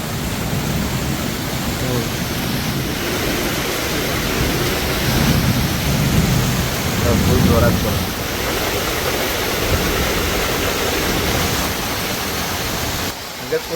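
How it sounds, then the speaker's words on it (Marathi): Steady, heavy monsoon rain roars continuously, with low rumbling thunder swelling in the middle; faint voices sit under the downpour. "बघा किती गडगडते बघा"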